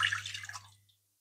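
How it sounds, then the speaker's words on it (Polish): Water splashes and trickles into a pot for about a second while making choux pastry dough, a bright close pour that quickly tapers off to a low steady hum. "Do garnka wlewamy wodę."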